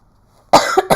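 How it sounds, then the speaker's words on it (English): One close, sharp cough splitting into two or three quick bursts, loud after a moment of near silence. "Sorry, I'm coughing."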